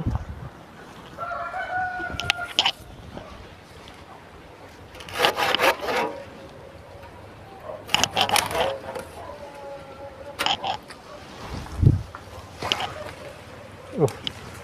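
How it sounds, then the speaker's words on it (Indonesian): Intermittent rasping strokes of a hand saw biting through a thick woody vanilla plant stem, in short bursts, with a rooster crowing in the background. "tidak bisa pakai gunting stek, kita harus menggunakan gergaji"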